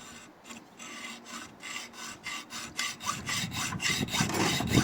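A hacksaw cuts through a metal cam gear for a Subaru Impreza with steady, rhythmic back-and-forth strokes, each rasp distinct and the sawing growing louder and quicker toward the end, with no talking.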